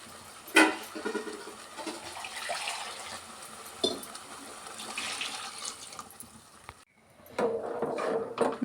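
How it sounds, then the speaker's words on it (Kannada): Water pours into a pot of coconut rasam, a rushing splash and gurgle that runs for several seconds, pauses briefly, then resumes, with a few utensil knocks. "ಇವಾಗ ನೀರು ಸೇರಿಸ್ಕೊಳ್ಳೋಣ"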